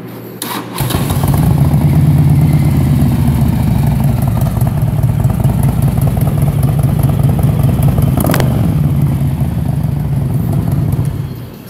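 A 2006 Harley-Davidson Street Glide engine with Screaming Eagle exhaust starts up and runs loudly at a steady, throbbing idle close by for about ten seconds before cutting off.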